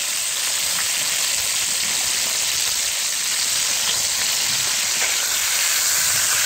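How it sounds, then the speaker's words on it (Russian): Pink salmon pieces frying in a pan, a steady loud hiss and sizzle of hot oil running continuously with no voices over it. "Вот посмотрите, да, как она зажаривается."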